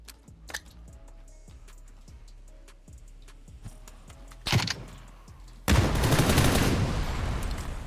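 Gunfire in the battle royale game PUBG: a run of sharp, fairly distant shots with echoing ticks, a louder close burst, then a sudden sustained roar like an explosion or vehicle noise filling the rest.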